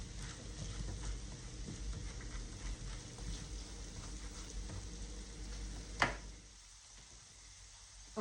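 Halved green pepper and chopped onion cooking in a pan, giving a steady low sizzle with occasional stirring taps and a sharp knock near the end, the frying dropping quieter afterward.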